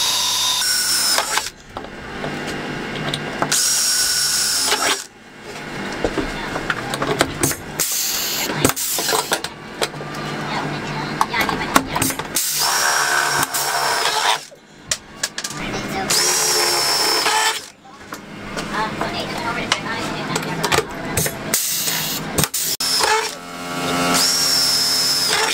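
Power drill boring rivet holes into the ceiling of a Sprinter 144/170 van, in repeated bursts of several seconds separated by short pauses, loud and close, with some talking in between.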